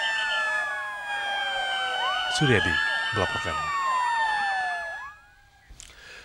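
Ambulance siren wailing loud and close as it carries accident victims in Jakarta, the rising and falling tones sweeping for several seconds, with a news reporter speaking over it before the siren fades out.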